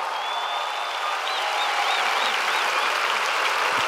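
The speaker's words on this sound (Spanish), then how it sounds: "Más fuerte el aplauso para el gran Sergio Freire." Big festival crowd at Viña del Mar applauding comedian Sergio Freire, a dense, steady roar of clapping with whistles rising above it, sustained and loud throughout.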